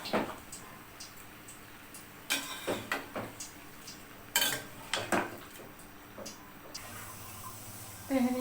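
Spiced meat for tehari is stirred in a pot with nutmeg powder added, giving a series of close scrapes and clinks of a utensil against the metal in irregular bursts over a low background hum.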